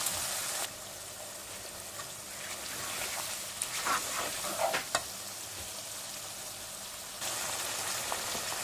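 Chicken coated in spices being stirred and fried in a pan for hara chicken, a continuous close sizzle with scraping and clattering of the spoon in the middle.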